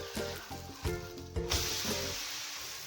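Butter-roasted masala paratha on a hot pan gives a soft, steady sizzle that swells and fills the second half, after tonal, musical sounds at the start.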